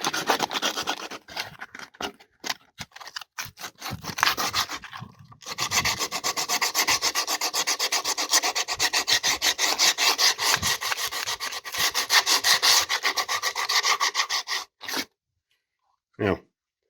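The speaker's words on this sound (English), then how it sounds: "All I literally need to do is just give it a light sand." Coarse sandpaper is rubbed back and forth across a wooden frame left messy by expanding foam: first in short separate strokes, then a long run of fast, rhythmic, raspy scrubbing, heard up close before it stops.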